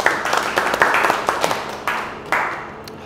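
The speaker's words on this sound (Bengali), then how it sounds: "স্যারের জন্য একটা হাততালি" A small practice-session audience gives a short burst of hand clapping for a speaker, irregular close claps over about three seconds that taper off.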